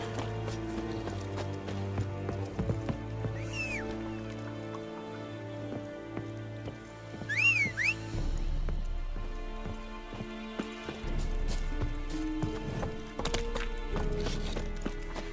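Roach the horse galloping in The Witcher 3, a steady run of hoof clip-clops under game music, with a brief whinny partway through.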